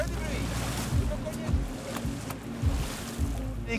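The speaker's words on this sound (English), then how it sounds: "Does beating the water drive the fish away?" Repeated splashing thumps as the water surface is beaten to drive fish, roughly every half second, over a steady rushing background of water and wind, in New Caledonia.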